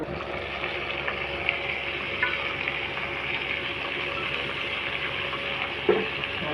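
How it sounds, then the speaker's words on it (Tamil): Garlic, curry leaves, carrot, onion, tomato and green chili sauté together in a pan for pasta, giving a steady, even sizzle with faint stirring clicks and one brief louder scrape near the end. "எல்லாத்தையும் ஒன்றா போட்டு நல்லா வதக்கி"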